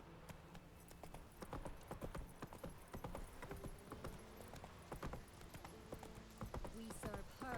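Roach the horse's hooves clip-clopping in The Witcher 3: Wild Hunt, a steady quick run of close hoofbeats with jingling tack, and a voice speaking briefly over it.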